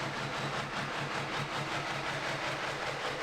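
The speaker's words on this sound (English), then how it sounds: "It's running diesel power in a V12 Transmars engine." A pulling tractor powered by a diesel V12 Transmars engine drones at a track-pulling finals event, giving a steady, mid-distance hum with a faint regular low throb and no voices over it.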